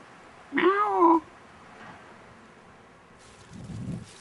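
A cat gives one clear close meow, followed by faint rustling and a soft low scuffle a few seconds later.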